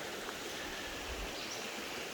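Crooked Creek Falls and its creek make a steady, broadband rush of flowing water, faint and distant, with no voices.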